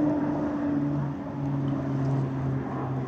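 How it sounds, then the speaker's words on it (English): Airplane passing overhead, a loud steady engine drone with low sustained tones filling the whole stretch, no voices. "Wow, look at the plane."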